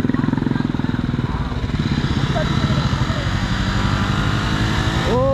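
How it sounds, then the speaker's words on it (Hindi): A motorbike on an off-road water crossing, stuck in deep water and slipping without off-road tyres: the engine revs loudly and keeps a steady throbbing drone close by, and people talk over it. "यहाँ पर इनकी बाइक फंसती हुई नज़र आ रही है जो काफ़ी गहरे में चला गया है भैया,"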